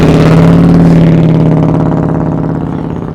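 A Honda Gold Wing motorcycle engine hums loud and close during slow-speed riding practice, a steady low drone that eases slightly toward the end.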